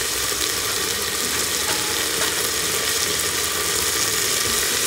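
Lentils with turmeric, coriander powder, black pepper and cumin fry in a pan while being mixed, giving a loud, steady, unbroken sizzle with no talk.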